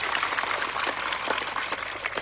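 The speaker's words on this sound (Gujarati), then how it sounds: "સૌ માટે એકવાર જોરદાર આપણે તાળીઓ પાડી લઈએ" A large crowd claps at an outdoor political rally in Gujarat, a dense, steady wash of applause filling the whole short stretch with no voices on top.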